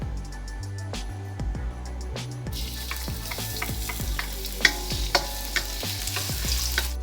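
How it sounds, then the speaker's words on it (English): Garlic and chilies fry in hot corn oil with a dense, continuous crackling sizzle, punctuated by repeated scrapes and taps of a utensil stirring the pan, close and steady throughout. "Once the oil is heated up, first thing she's going to add are the garlic and the chilies."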